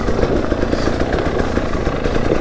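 Two-stroke motorcycle engine running hard and close, a continuous buzzy roar with a rapid rattling texture and no pauses.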